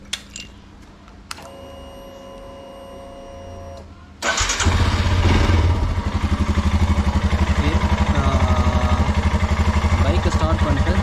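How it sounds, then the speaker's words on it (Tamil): A motorcycle is started outdoors before chain cleaning: a brief electric whine, then the engine catches and settles into a loud, steady idle with an even rapid pulse, close to the microphone. "ஃபஸ்ட்டு வந்து நம்ம வந்து பைக்கை ஸ்டார்ட் பண்ணிட்டேன்."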